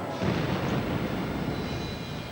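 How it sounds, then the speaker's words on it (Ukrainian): Propane cylinders exploding on a burning fishing schooner, a heavy, rumbling blast that swells and then keeps roaring as a dense, crackling roar, loud and continuous. "вибухають балони з пропаном"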